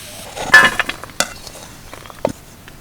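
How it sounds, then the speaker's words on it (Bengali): Warm laddu mixture scraped out of a cooking pan into a bowl, a few scratchy scrapes and metallic clinks in quick bursts, close and fairly loud, with no talk. "এবার আমি একটা পাত্রে নামিয়ে নেবো"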